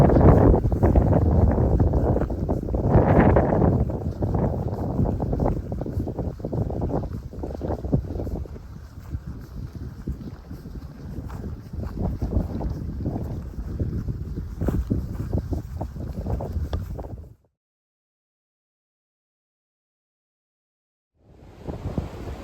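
Strong wind gusts on the Appalachian Trail between Catawba, Virginia and Pearisburg, loud and rumbling as they buffet the microphone, continuing steadily before cutting to a few seconds of silence.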